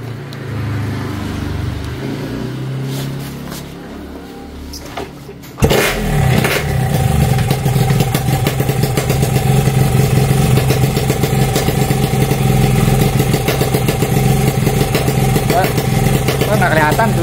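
A vehicle engine idles quietly with talk over it, then the throttle opens and a loud, steady engine roar takes over and holds to the end.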